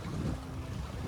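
Wind gusts across a sailing yacht off the hills near Tobermory and Oban, a loud buffeting rush of air on the microphone with low rumbling water and hull noise beneath, continuous and close.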